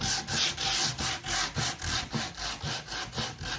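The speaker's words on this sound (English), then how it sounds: "So I'm going to use a hand sander and do that." A hand sander works over a painted wooden garden sign in quick, even back-and-forth rasping strokes, about four per second, close and fairly loud, with no voices.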